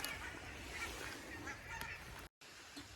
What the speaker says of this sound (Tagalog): Rinig niyo yung mga ibon.